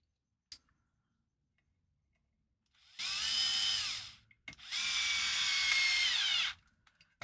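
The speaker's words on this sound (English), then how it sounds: "We're going to put 2 screws in." A power drill drives screws in two whirring bursts, each about a second or more and close by, separated by a short pause, with a sharp click beforehand.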